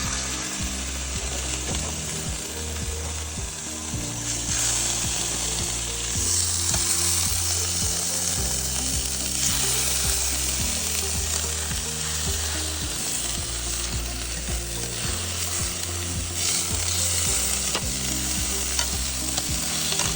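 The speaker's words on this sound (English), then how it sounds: "I'm just searing them and bringing them back up to temp." Cooked meat seared in a hot pan after about 40 minutes of roasting, a loud, steady sizzle and crackle with occasional scraping and stirring, no talking.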